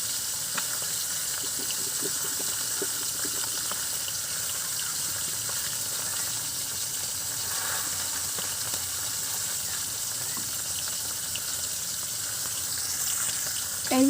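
Cut okra being rinsed under a running kitchen tap: a steady, close splashing stream of water that holds an even level throughout, with no talking.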